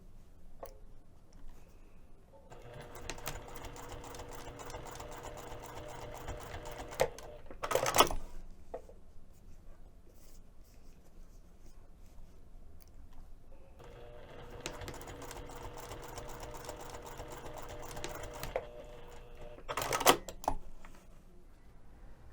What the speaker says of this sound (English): I would like to sew 2 lines of stitches